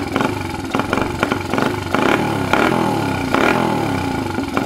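A Honda XR80 motorcycle engine runs loud and close, its single-cylinder putter rising and falling through several short revs with mechanical clatter.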